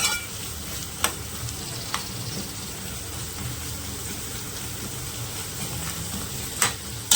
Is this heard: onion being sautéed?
yes